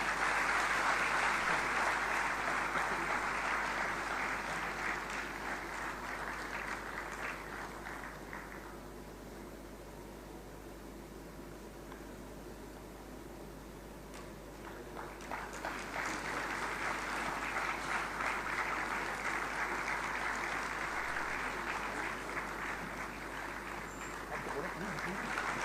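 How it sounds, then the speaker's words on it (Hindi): Audience clapping at an institute foundation day ceremony in Lucknow, sustained applause that dips to a softer patter midway, then swells again, heard alone at moderate distance. "आइए इस विशेष क्षण का हम सभी तालियों की करतल ध्वनि से स्वागत करें।"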